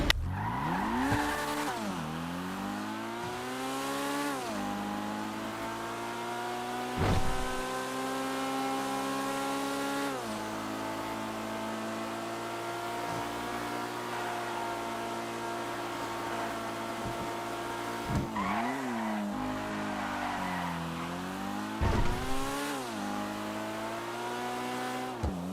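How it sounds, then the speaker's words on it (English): Pistol Growler, a two-seater sports car in a video game, drones steadily with its engine note rising and falling through gear shifts, several sharp revving swells and brief bursts punctuating the continuous close, loud hum. "Okay, this is a pistol growler. Test the test rides. Let's move on to the test drive."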